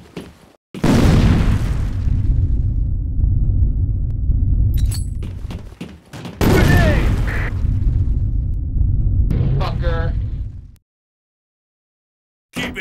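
In the shooter game Operation 7, grenade blasts go off as two long, loud booming explosions with crackling, debris-like rumble, each cut off abruptly, the second ending in sharp high pops before silence.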